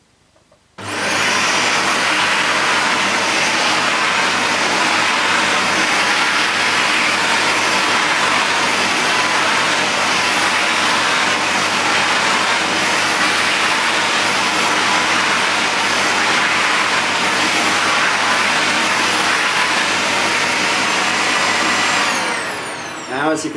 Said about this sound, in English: I'm going to try you with Dyson switched on.